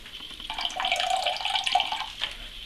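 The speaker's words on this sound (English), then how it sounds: "I'm going to pour the water out of it." Water is poured from a water softener filter housing into a bucket, a loud, steady splashing gush lasting about two seconds before it tapers off.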